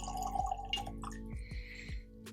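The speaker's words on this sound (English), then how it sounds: "Pours up a little dram." Whisky being poured into a glass as a small dram, heard as a short run of liquid trickles and drips with a few soft glassy taps, close and fairly quiet with no talk over it.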